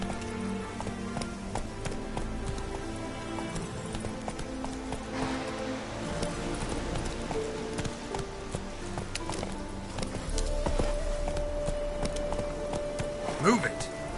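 Roach, a horse in the video game Witcher 3, trots with steady clip-clop hoofbeats amid a rain-like ambient wash, with shouted commands from a rider over the top.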